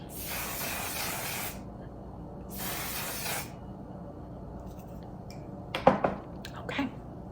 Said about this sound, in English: the actual effectiveness of this particular setting spray. So we're gonna go in with that.